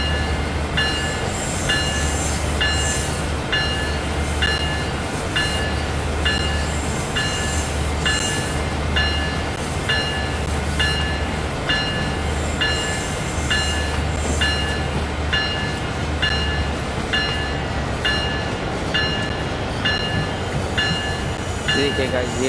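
A train rumbles steadily along the line in Train Sim World 5, with continuous low engine drone and faint rhythmic clicking from the wheels, loud and unbroken for the whole stretch.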